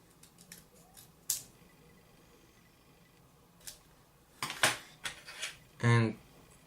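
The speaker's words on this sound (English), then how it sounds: "I have to cut it a little bit more around the edges" Scissors snip around the edges of a water slide decal with a few sharp, close cuts spread unevenly, ending in a louder crunchy burst, alone against a quiet room.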